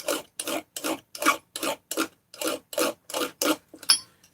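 A hand file deburring metal parts, about ten evenly spaced rasping strokes, close and clear, with no talking.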